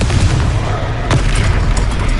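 A Confringo explosive spell from a Harry Potter game, a dense rumbling boom with crackling bursts, loud throughout the short clip.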